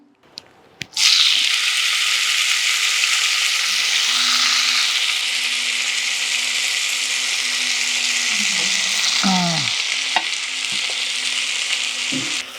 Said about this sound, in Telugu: ఇందులోనే కొద్దిగా ఆయిల్ వేసుకొని ఇప్పుడు మన గోంగూరని